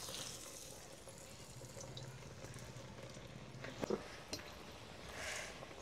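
Poha cutlets coated in bread crumbs fry in hot oil with a steady, soft sizzling hiss, punctuated by a few brief pops and crackles near the end.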